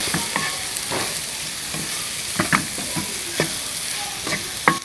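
A spoon stirs a quail egg mixture with chopped coriander and onion in a sizzling pan, giving repeated scraping clicks over a steady frying hiss.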